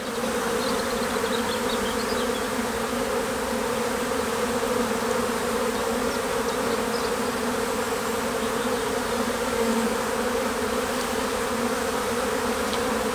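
Honey bees swarming over an opened beehive on a warm day, a steady, dense, close buzzing hum that continues unbroken without voices.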